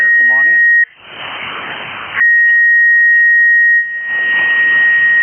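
A steady whistling carrier from a radio transmitter being tuned up on an amateur radio net, a pure sustained tone holding for several seconds between bursts of band static, loud and clean.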